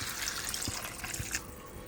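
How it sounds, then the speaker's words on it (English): Water poured into a pan of cooking potatoes and onions gives a steady, hissing rush of liquid with soft splashing and faint clinks, fading toward the end. "potatoes are and onions are translucent, so we're gonna add some water"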